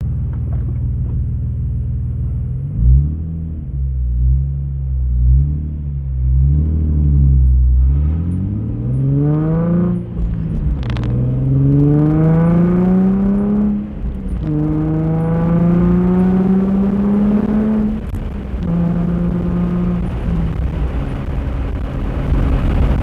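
A Nissan 350Z fitted with a cone filter intake idles with a deep rumble, then revs up in repeated rising sweeps as it accelerates down the street, the loud engine tone climbing through the gears.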